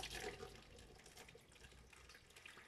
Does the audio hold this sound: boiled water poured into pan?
yes